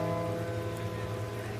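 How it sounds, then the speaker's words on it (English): Steady rain falls in London, an even wash of drops pattering on surfaces with no voices over it. "Every bloody year it rains on my bloody birthday, Oliver."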